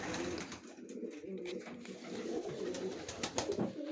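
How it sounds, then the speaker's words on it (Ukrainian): Several pigeons coo softly in a low, murmuring chorus, with faint rustling and ambient noise around them. "трошечки минутку покажу голубів"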